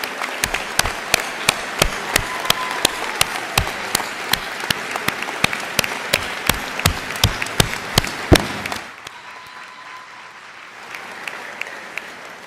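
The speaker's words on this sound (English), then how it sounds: "Give yourselves a round of applause" Dense clapping from a commencement crowd honoring Dakota State University alumni, crisp and steady for about nine seconds before cutting off abruptly, leaving a quiet, hollow hall murmur.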